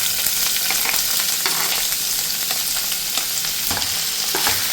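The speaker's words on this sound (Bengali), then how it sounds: "এরপরে পেঁয়াজ কুচি দিয়ে এটাকে খুব ভালো করে ভাজতে হবে" Chopped onion fries in a pan of hot oil for a royal prawn curry, giving a steady, close, dense sizzle with faint stirring scrapes and no talking.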